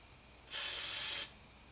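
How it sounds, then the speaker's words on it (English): Pam cooking oil sprayed from an aerosol can onto a heart-shaped pancake mold, a single steady hiss lasting under a second, close and clear with no talking. "It just is easier to spray your mold if you use some Pam"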